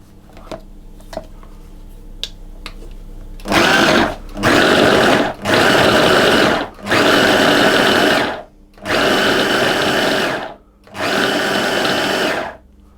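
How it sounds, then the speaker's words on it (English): A food processor pulses Marmite breakfast biscuit dough with butter into chunks, in about six loud, steady bursts of whirring motor noise separated by short pauses, after a few quiet clicks and knocks. "I'm going to process this until it forms sort of just little chunks, breadcrumbs to pea size stage"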